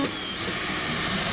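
A power drill bores a hole during a campervan build, a steady close-up grinding whine running the whole short moment with no pause.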